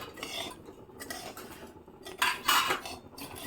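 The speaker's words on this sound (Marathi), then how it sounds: "तर आता मी वरी भाजतीये." Vari (barnyard millet) roasts in a pan, heard as quiet intermittent scraping and rattling of a utensil against the pan in uneven bursts, growing louder toward the end.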